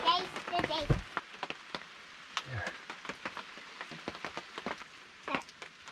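Water drips and patters onto the roof and a sleeping pad inside a log cabin survival shelter, with scattered close drops and soft rain, and a person speaking over it.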